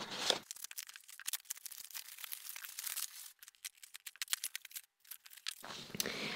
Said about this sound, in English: So I'm just going to go ahead and unwrap everything.